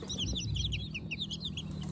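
Chicks from a hatchery, mixed egg-layer breeds, peep in a dense, continuous chorus of high chirps over a low rumble of background noise, with no talking.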